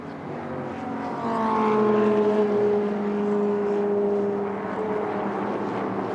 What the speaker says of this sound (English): And through comes the Lotus 17, Thor Johnson at the wheel.